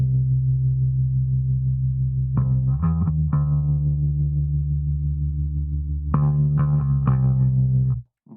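Sustained electric bass line with a processed, synth-like tone, repeating an eighth note followed by two sixteenth notes in a steady groove, played alone and close with no talking.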